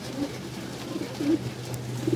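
Pigeons bathing in water coo softly in a few short, low calls spaced over steady background hum, fairly faint and without voices.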